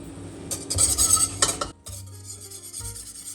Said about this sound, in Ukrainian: Періодично помішую, щоб ванільний цукор та молоко не пригоріли знизу